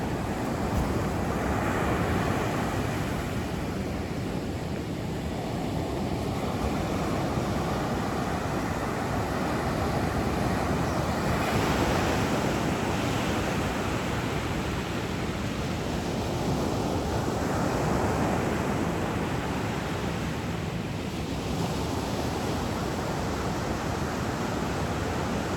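Atlantic Ocean surf on a sunny mid-November day near Kitty Hawk, steady broadband wave wash with slow swells of breaking water and some wind across the microphone, continuous and fairly loud with no talking.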